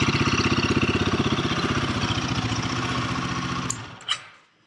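A Royal Enfield Guerrilla 450 motorcycle idles close by with a steady, even low thump. The engine then cuts out and leaves a brief clunk and near silence.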